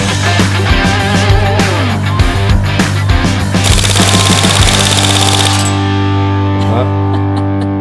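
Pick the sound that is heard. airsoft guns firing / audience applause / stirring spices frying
airsoft guns firing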